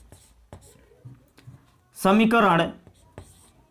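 Equations are hand-written during a maths lesson, heard as faint, short scratchy pen strokes spread across a few seconds, with a teacher's voice breaking in loudly partway through.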